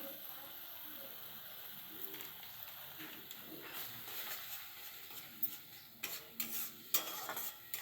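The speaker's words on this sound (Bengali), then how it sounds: "মশলাটা যাতে পুড়ে না যায় এর জন্য আমি অল্প অল্প একটু জল দিয়ে ভালো করে কষিয়ে নেব" Spice paste is stirred and fried in a pan with a splash of water and Kashmiri chilli. A faint, soft sizzle runs under quiet scraping, and a few louder clinks and scrapes come toward the end.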